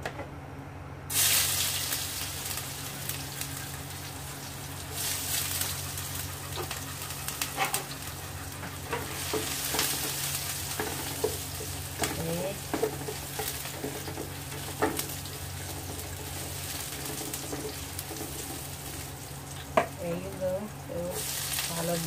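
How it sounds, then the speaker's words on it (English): Meatloaf, gikyam and onion frying in a pan produce a steady low sizzle with intermittent scraping and clinks from stirring, fairly quiet throughout. "We need to fry the meatloaf and the gikyam."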